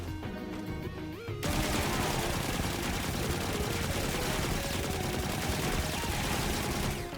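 The Seventh Seraph VY-7 submachine gun from Destiny 2 fires in rapid continuous bursts, loud and dense, kicking in after a brief quieter opening and layered with in-game combat effects.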